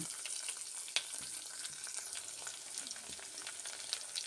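A sprig of curry leaves crackles and sizzles in hot oil for sambar, a soft, steady frying hiss with small pops. The sound is close but quiet, and no one speaks.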